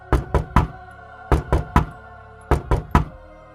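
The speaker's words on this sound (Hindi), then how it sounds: "कोई दरवाजा खटखटाता है।" Knocking on a door in three quick groups of three raps, each rap sharp and close, with short pauses between the groups and no voices.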